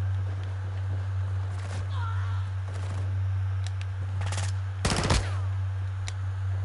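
Call of Duty gameplay brings scattered gunfire bursts, sharp cracks and a dense rapid volley near the end, over a constant low hum.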